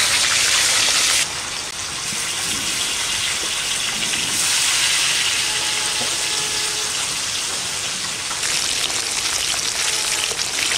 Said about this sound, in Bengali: ওই ইদারে বৃষ্টি নামছে, জমের বৃষ্টি